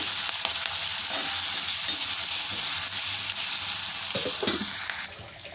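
Finely cut green chillies and curry leaves crackle and sizzle in hot tempering oil as they are stirred, a dense continuous frying hiss with a few soft scrapes, easing slightly at the very end.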